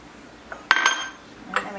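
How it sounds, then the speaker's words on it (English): Utensil clinks against a bowl while pasta salad with shell pasta, pickles, onions, green onions and cheddar is mixed; a few short, close scraping clatters. "We're just going to mix this together just to combine these."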